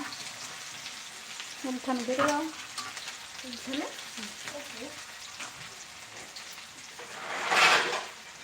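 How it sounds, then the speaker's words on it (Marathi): Onions frying in a pan with peanuts to follow for a breakfast dish, making a crackling sizzle with spoon stirs and scrapes and a louder burst of spatter near the end, faint talk in the background. "कांदा छान परतून घ्यायचा"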